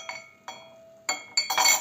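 Glassy clinks ring out as a metal spoon is placed into a glass jar for hot raspberry jelly: two light taps, then a louder rattle and a bright, sustained jangle of metal on glass, close and without voices.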